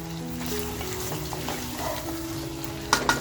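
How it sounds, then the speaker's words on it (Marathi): Mutton frying in masala makes a steady close sizzle, with soft stirring scrapes and a few sharp metallic clinks near the end. A faint tonal hum runs underneath, and there is no talk. "मटण असं आपलं मसाल्यामध्ये आणि कसं फ्राय करून घ्यायचं आहे"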